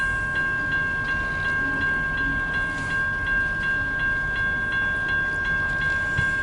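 A long CN mixed manifest freight train, led by three locomotives, slowing down on a westbound run, with a steady loud rumble of rolling cars, sustained high tonal ringing and faint rhythmic clicks throughout.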